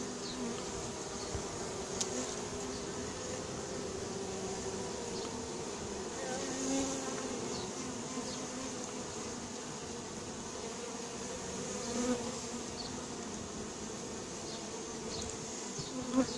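A swarm of honeybees being recovered in L'Haÿ-les-Roses buzzes in a steady, dense drone that carries unbroken from start to finish at moderate loudness.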